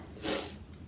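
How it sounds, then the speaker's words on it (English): A single short, sharp sniff from hay fever close to the microphone, a quick breathy intake through the nose. "Excuse me for the sniffling."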